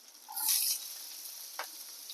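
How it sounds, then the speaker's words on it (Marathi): Onion and green chilies frying in a pan for a vegetable dish, a steady close sizzle with a brief stir or scrape near the end and no talk. "भाजीला कांदा लाल होईपर्यंत परतून घेऊया"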